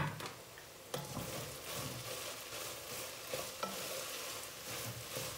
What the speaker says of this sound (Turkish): Şimdi bunu güzelce bir karıştıralım.